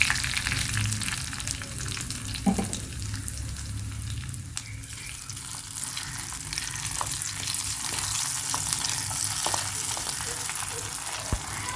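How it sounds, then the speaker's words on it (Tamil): Curry leaves and okra sauté in hot oil for a tamarind curry, a continuous close sizzle and frying crackle with occasional stirring scrapes over nearly twelve seconds, steady and fairly loud, no one speaking. "கருவேப்பிலை சேர்த்த பிறகு லேசாக வதக்கி விட்டுக்கோங்க."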